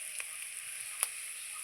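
Pieces of kakrol frying in oil, heard as a quiet, steady sizzle with a couple of faint crackling ticks.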